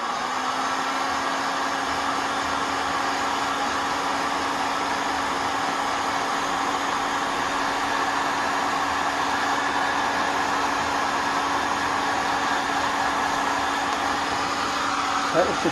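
A heat gun blows a steady, loud whoosh of hot air onto heat shrink tubing during internal rewiring of a Quad 405 power amplifier, sounding continuously from start to end with a faint whine under the airflow.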